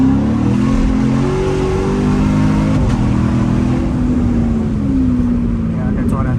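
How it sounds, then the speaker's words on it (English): A Mercedes accelerates hard while racing a Corvette at night, a loud, steady engine roar with rising revs and road noise close by throughout. "Oh, he's trying to race. I think it's a Mercedes."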